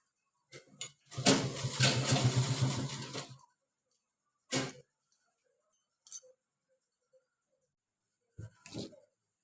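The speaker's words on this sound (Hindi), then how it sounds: "और इस तरह से पूरे में इसको सिलाई लगाते जाना है।" A sewing machine stitches a tote bag in one loud, close burst of about two seconds, then gives a few short stabs and clicks among quiet pauses, with no talking.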